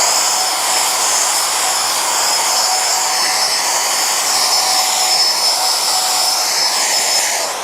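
A POKK 1000W HVLP electric paint sprayer runs with a larger nozzle fitted, giving off a steady, loud, high-pitched motor whine and airy hiss that holds unbroken for the whole stretch.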